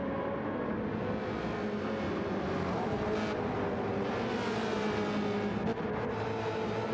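A V8 Supercar race car engine in a racing game at the Nürburgring GP circuit, giving a steady, continuous drone throughout with no breaks or voices.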